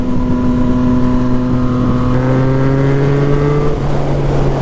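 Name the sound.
Yamaha FZ09 motorcycle exhaust note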